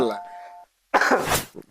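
A single throaty cough breaks out close to the microphone in an Indonesian podcast, a short broadband burst heard after a brief tonal sound and a moment of silence.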